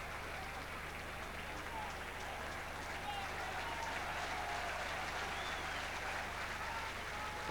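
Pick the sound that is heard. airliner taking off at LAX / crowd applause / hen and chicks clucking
crowd applause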